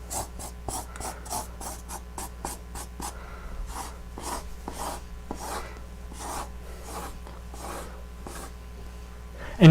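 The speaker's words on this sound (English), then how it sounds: "I'm going to use the red marker for this because I just used blue to draw the outlines" Red marker pen writing on paper, a steady series of short scratchy strokes in an uneven rhythm, close and fairly quiet over a low hum.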